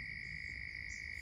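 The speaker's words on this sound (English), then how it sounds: "It's frog central down here." Southern toads calling in a pond, a continuous high-pitched trill from many animals blending into one steady drone, faint and unbroken throughout.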